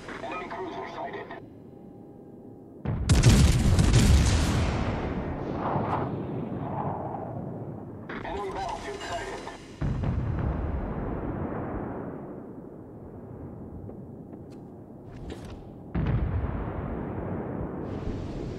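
Battleship guns fire in World of Warships: Legends aboard the Wyoming III with big booming salvos, heavy blasts that roll off into long rumbling decays and are repeated several times, with radio-style voice callouts in between.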